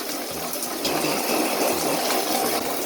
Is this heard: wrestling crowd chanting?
no